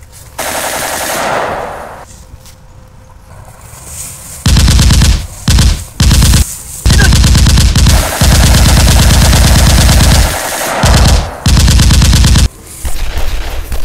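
Loud, close machine-gun style gunfire fired in long sustained bursts with short gaps between, after a quieter opening stretch of noise, no speech over it.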